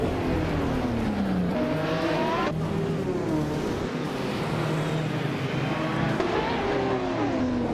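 Race cars overtaking in a racing video game, engine tones rising and falling steadily as several cars sweep past one another, loud and continuous with no pauses.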